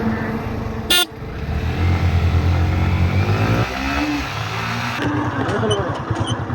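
Yamaha MT-15 and R15 motorcycles in a drag race: a short horn toot, then engines rev and climb in pitch as they accelerate, with the roar continuing loud and close.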